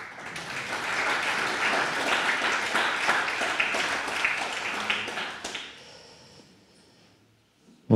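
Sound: meeting audience applauding the two treasurers

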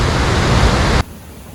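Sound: Probiy waterfall on a Carpathian river canyon, Yaremche

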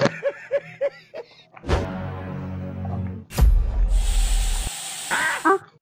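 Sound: spraying from a spray can

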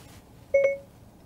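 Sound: car Siri activation beep after pressing steering-wheel talk button

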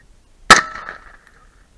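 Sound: gunshot at a target

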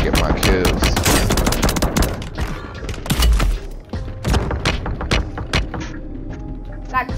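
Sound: gunfire in a shooter video game

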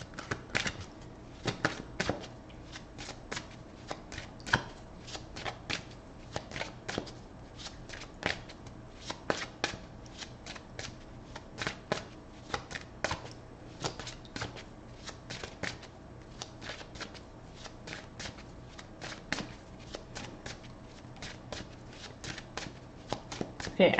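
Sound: shuffling and cutting a deck of tarot cards

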